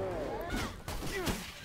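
Shotgun blasts in The Technomancer video game crack out three times in quick succession, sharp and punchy beneath excited talking.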